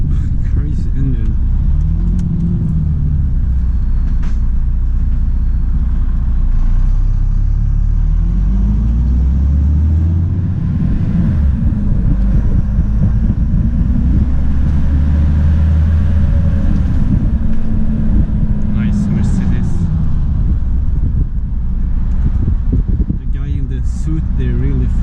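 Mercedes truck engine rumbling from inside the cab while driving and reversing with a dolly trailer in Älvsjö, Stockholm, a loud low drone rising and falling with revs, with wind noise and someone talking over it.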